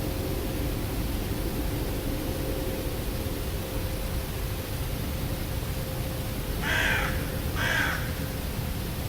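Two crows caw in an outdoor woodland setting in Epping Forest, a pair of short calls heard at moderate distance over steady background hiss and a low hum, with no talking.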